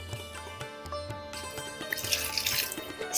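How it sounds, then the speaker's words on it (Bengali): Water poured into a steam cooker holding dal and grated ginger, a steady close splashing and trickling with a few drip-like patters, no talking. "এই যে জল দিয়ে দিলাম।"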